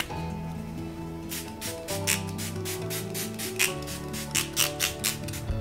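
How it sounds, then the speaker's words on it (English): Primer water misted onto a face from a spray bottle during makeup application, a series of short hissing spritzes in quick rhythm, close, over background music. "Once you spray this all over your face"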